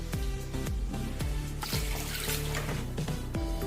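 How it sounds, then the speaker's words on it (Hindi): Water is poured into a pan of jaggery set on a gas stove, a light trickling splash with several soft knocks and clinks spaced through it, close and moderately quiet. "अभी इसमें हम पानी डालेंगे।"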